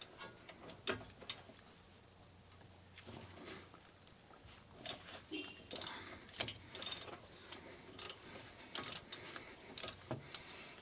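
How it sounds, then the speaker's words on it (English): Ratchet with a 14mm socket working on strut and brake line bolts during front strut removal on a 1998 Toyota Corolla, heard as scattered clicks and metallic clanks, close and intermittent. "for the brake line we will be using 14mm socket."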